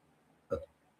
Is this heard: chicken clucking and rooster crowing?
no